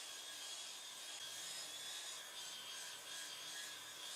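A rotary sander works steadily across a wooden workbench top, giving a continuous, even abrasive hiss with faint rhythmic swells and no pauses or voices.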